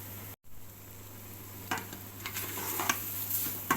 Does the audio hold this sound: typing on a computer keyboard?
no